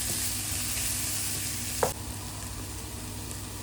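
Thinly sliced leeks and eggs frying in a pan while being stirred: a steady, close sizzle throughout, with a single brief clack of the utensil partway through and no talking.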